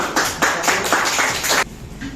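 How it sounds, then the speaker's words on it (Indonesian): Brief clapping from a class audience after a student group presentation, several soft bursts of hands over about a second and a half before fading. "Oke, kita beri tepuk tangan."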